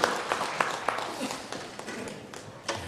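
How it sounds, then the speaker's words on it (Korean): Church congregation applauds in praise during a service at Banglim Church, scattered hand claps and taps close by, uneven and sparse, with a few sharper claps standing out before the clapping tapers off. "우리 하나님께 영광의 박수 올리겠습니다."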